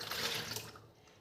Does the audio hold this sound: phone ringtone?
no